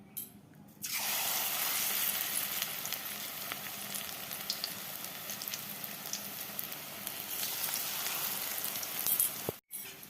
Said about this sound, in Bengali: বড়া ভাজা হয়ে গেছে, এই যে মুচমুচে একদম ধনে পাতার বড়া